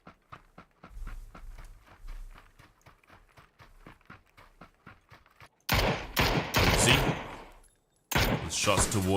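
Rapid gunfire in a battle royale game match, a string of sharp evenly spaced shots at first, then much louder dense bursts of shooting and action noise that cut off and resume, with a caster voice present.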